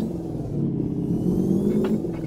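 A modded 1986 Ford F350 truck engine in a video game, driving on a tar-seal road, gives a continuous rumbling drone that winds up steadily, loud and close, with no talking.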